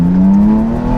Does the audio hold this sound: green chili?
no